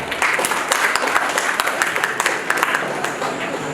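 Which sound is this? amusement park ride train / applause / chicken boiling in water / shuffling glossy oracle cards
applause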